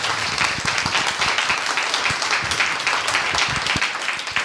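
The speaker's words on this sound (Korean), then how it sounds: "여러분 박수 부탁드리겠습니다." An audience at a baroque chamber concert featuring harpsichord, recorder and viola da gamba applauds. The dense, steady clapping is moderately loud and continues throughout without pause.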